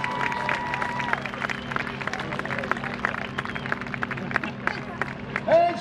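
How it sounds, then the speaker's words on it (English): At an Air Force base airshow, a crowd applauds and cheers a marriage proposal: scattered clapping and chatter spread across an open outdoor space, with a public-address voice and a brief sharp tone near the end. "let's give him a loud round of applause, please"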